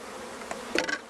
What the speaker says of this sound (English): I'm going to take my bulk bees, I'm going to get them shook down, and then I'm going to dump them